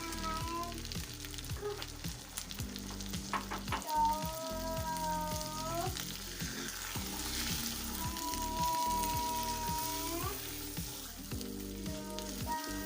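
Mutton sizzles steadily in a kadai for a long stretch, a dense, even frying crackle that sounds almost like rain, with faint tones and clinks rising over it at times and no one speaking.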